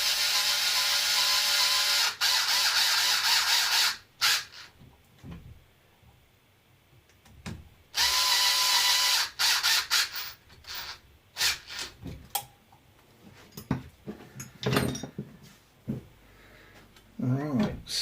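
Screws are tightened down onto the servo of a Losi LMT RC truck while fitting a Vitavon 7075 front axle housing: loud, close whirring bursts alternate with quiet stretches of small clicks and ratcheting taps.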